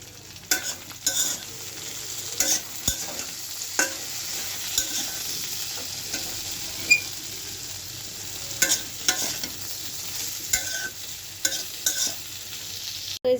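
A bean (flat bean, shim) bhaji sizzles and fries in a pan while it is stirred, with irregular scraping clicks from the utensil over a steady hiss, close and moderately loud, and no talking.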